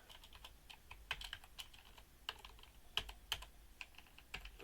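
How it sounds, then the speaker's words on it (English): Irregular, soft clicks of typing on a computer keyboard in a quiet room, keystrokes coming in uneven bursts, close and faint. "I'm having a problem typing here in the dark"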